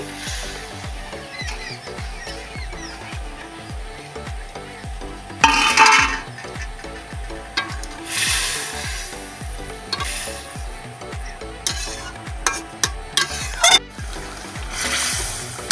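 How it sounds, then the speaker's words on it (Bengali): Fried okra tipped into boiling curry gravy, with bubbling simmer, wet splashes and stirring scrapes of a utensil against the pan, close and fairly loud. "ভেন্ডিগুলো ঝোলের মধ্যে দিয়ে দিচ্ছি"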